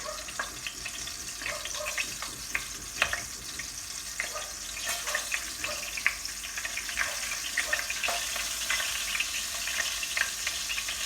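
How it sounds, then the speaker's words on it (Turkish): Meatballs frying in hot oil for Cretan-style sour köfte, giving a steady close sizzle with scattered sharp pops and crackles throughout, no voices. "bu şekilde ekliyorum. Hafif kızaracaklar."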